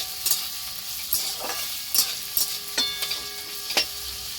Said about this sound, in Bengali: এবার একটু পেঁয়াজটা ভালো করে লাল করে ভেজে নেব।